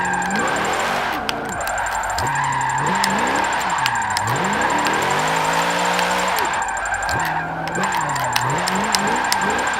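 A 2014 Chevrolet Super Sport race car in Forza 7 drifts, its engine rising and dropping in repeated sweeps as it bogs down and revs back up, steady and close throughout with faint tyre noise.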